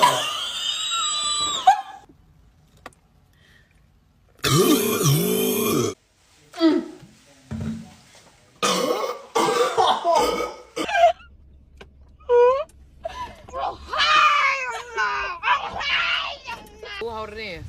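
Someone straining to burp during a burp challenge, with short forced belches and grunts scattered between bursts of close, excited talk and laughter, some sounds loud and abrupt, others faint.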